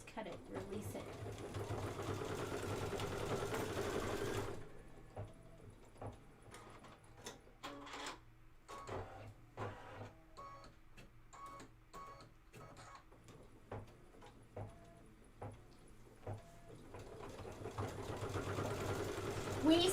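An embroidery machine runs steadily while stitching a Kimberbell design, first as a continuous busy hum, then as rapid uneven clicks and taps, and then the dense running again toward the end, with talking in places.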